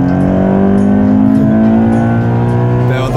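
A Toyota GT86 engine accelerating hard in second gear, a loud, close, rising drone that holds steady for several seconds with no talking.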